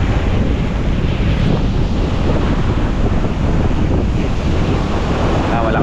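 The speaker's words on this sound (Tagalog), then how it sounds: "Malakas talaga yung hangin" Strong wind by the sea before a typhoon roars steadily into the microphone, mixed with the rush of ocean waves, loud and constant throughout.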